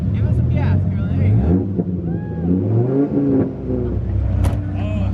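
A car's engine revs as it drives off, a rising, loud throttle roar up close, with people talking over it.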